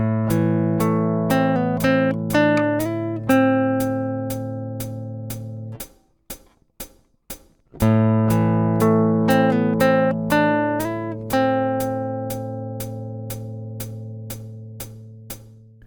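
A left-handed acoustic guitar plays a phrase from a song twice, with picked notes ringing into sustained chords and a brief quiet gap between the two passes.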